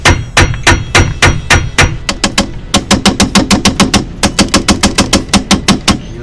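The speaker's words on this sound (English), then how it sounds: "I just used an aluminum hammer." An aluminum hammer strikes a suspension strut or control arm on a 2006 Volvo S40 2.4L during repair. Loud, close metallic blows come in steady series, slow at first and then in quick bursts of dozens of hits.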